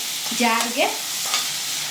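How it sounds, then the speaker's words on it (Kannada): Onions and green chillies frying in a pan give a close, steady sizzle. Stirring scrapes break into it, with a brief squeaky tonal sound early on and no talk. "ಈಗ ಈರುಳ್ಳಿ ಹಸಿ ವಾಸನೆ ಹೋಗೋವರೆಗೂ ಫ್ರೈ ಮಾಡ್ಕೊತಿರೋಣ."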